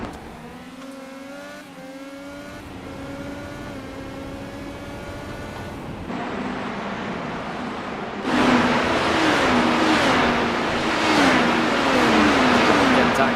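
IndyCar race car engines drone and whine at Mid-Ohio in a racing video game, with pitch sweeping up and down through gear changes and growing louder midway. A steady, close, continuous roar runs throughout.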